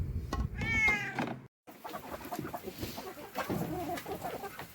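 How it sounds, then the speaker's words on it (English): Backyard hens cluck and squawk up close as they gobble fermented treats, a loud burst of bird calls followed by steady, busier clucking and pecking noise. "I'm just going to bring this out to the chickens and show you how much they love it."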